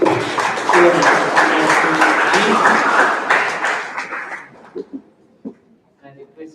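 Applause from the audience at a Frank Anthony All India debate, a dense burst of many hands clapping together that holds steady for a few seconds, then thins out and fades to a few scattered claps.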